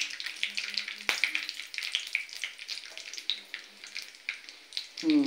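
Chopped onion and curry leaves frying in hot oil with whole spices for a fish curry give off a steady, close sizzle with light crackles, and a brief clatter of utensils comes at the end.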